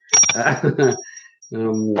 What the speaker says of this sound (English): my team has told me to ring the bell